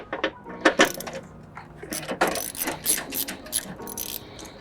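A hand ratchet loosens the airbox bolts while an Injen cold-air intake is fitted to a Toyota 4Runner or FJ Cruiser. Loud, close, rapid clicking and rasping pawl strokes come in repeated bursts with brief pauses between them.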